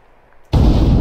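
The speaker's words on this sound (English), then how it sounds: "there's a lot of secondary explosions going on" A rocket detonates in ARMA 3 after a sudden silence, a loud, close blast that slams in and rolls into sustained rumbling debris.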